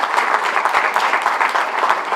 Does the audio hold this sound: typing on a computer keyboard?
no